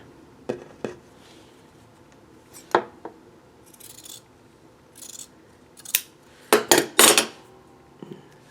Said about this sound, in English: what I do is I'll cut down the line, and then sometimes I'll trim it just a little bit more